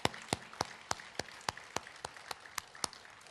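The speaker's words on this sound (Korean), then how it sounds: "우리 하나님 앞에 영광, 감사, 격려 박수 한번 올리겠습니다" During an Easter Sunday service at a Korean church, a few people clap in a slow, steady rhythm, each clap sharp and distinct against a quiet room.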